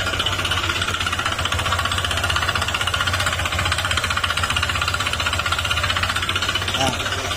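A Honda ADV160 scooter engine with a faulty connecting rod idles nearby with a fast, continuous metallic knocking beat over a low hum. The sound stays steady and loud throughout.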